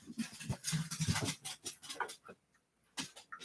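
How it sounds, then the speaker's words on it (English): Close, rapid breathy panting from a dog coming up for treats indoors, in quick uneven bursts with a short pause before it starts again. "There comes the dog. She wants some treats."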